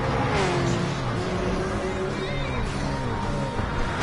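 Supercars racing at the Dragon Trail circuit in a video game, several engines droning and shifting pitch together at full volume, with faint tire noise and a voice talking underneath.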